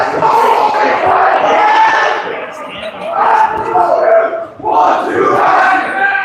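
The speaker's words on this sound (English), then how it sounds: "That's Lane leading the cheer there with the 1-2 Axemen" Under-17 youth football team chanting a cheer in unison, loud rhythmic call-and-response shouting in several phrases with a brief pause near the end, close and energetic.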